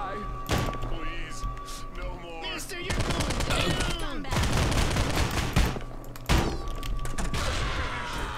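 Shotgun blasts from the video game Postal Redux crack out in several loud bursts amid chaotic in-game noise, with a person talking over the action throughout.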